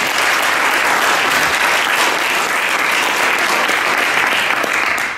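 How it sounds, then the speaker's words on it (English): An audience applauds speaker Andrew Gibson at a talk on using Solution Focus to help businesses, with dense, steady clapping that stays loud and even throughout before fading slightly at the end. "Round of applause, please, for Andrew Gibson"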